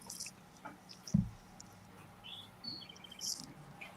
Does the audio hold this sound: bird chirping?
yes